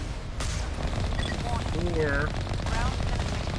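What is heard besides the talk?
gunfire at turrets in video game Mass Effect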